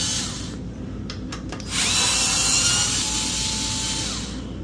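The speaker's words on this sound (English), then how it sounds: "Electric screwdrivers help with this a ton." An electric screwdriver whirring as it removes a guard from an Aipas C1 Max Xpress ST ebike during assembly, a few short clicks followed by a sustained motor whine that fades out.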